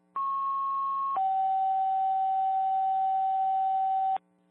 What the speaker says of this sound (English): Tone is for Troy.